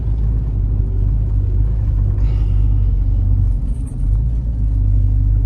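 Engine of a 1995 Chevrolet Caprice running close by with a deep, steady rumble, dipping briefly partway through as gears shift, then settling back to its continuous drone.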